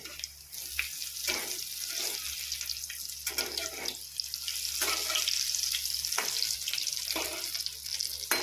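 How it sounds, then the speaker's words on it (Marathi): Egg bhaji fritters fry in hot oil after being flipped, a steady close sizzle and crackle with occasional soft clinks and stirring noises, no voices. "आता दुसरी साइड पण पूर्ण तळून घ्यायची आहे।"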